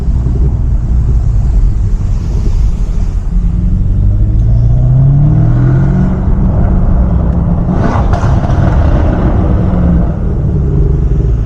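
A tuned 640 hp BMW M550i twin-turbo V8 pulls hard at night, heard from inside as a loud steady rumble whose pitch rises through the gears, with a brief turbo whoosh partway through.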